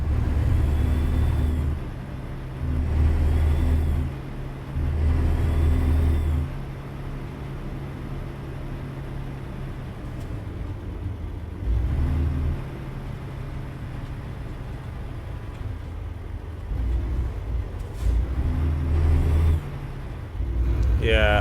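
A truck in the game American Truck Simulator drives and brakes, its engine droning in repeated loud surges that swell and fade. Air-brake hisses sound between the surges, with a voice talking over parts of it.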